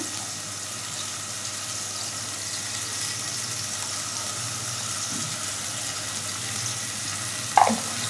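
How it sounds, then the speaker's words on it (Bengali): Spice masala with turmeric, chili and coriander sizzles and fries steadily in a pan, a constant hissing crackle with faint scraping from stirring and a brief clatter near the end. "এখন নাড়াচাড়া করে নেব যতক্ষণ না পর্যন্ত মশলাটা কষানো হয়"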